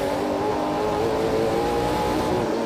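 A NASCAR race car engine roars steadily at high revs, heard from inside the car, throttle held hard with a constant droning whine.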